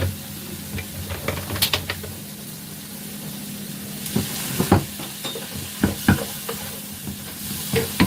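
Shrimp sizzle in a hot pan with a steady frying hiss, broken by sharp clinks and scrapes of stirring that come in irregular bursts, close and fairly loud.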